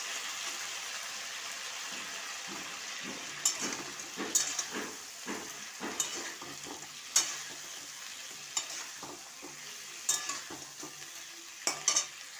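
Chicken wings fry in oil with chili, tomato sauce and soy sauce, and the pan sizzles steadily. A spoon stirs and taps against the pan in repeated sharp clicks, close and clear, with no voices.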